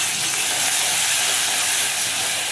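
Ginger garlic paste and turmeric frying in a pan give a steady, loud, close sizzling hiss that runs without a break and without any voices.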